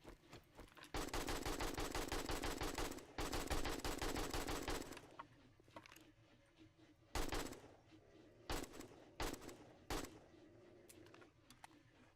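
AK rifle fire in the zombie survival game 7 Days to Die, with long sustained automatic bursts followed by several short, sharp single bursts separated by quieter gaps.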